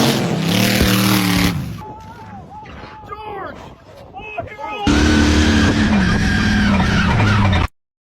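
A car skids across a burnout pad with a loud, roaring engine and tire squeal in two long bursts, separated by a quieter stretch of excited talking and shouting, ending abruptly.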